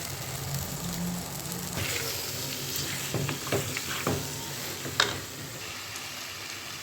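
Chicken for a gravy fries in a pan with a soft, continuous sizzle while a utensil scrapes and stirs it in short bursts, ending in one louder clack near the end, with no talking.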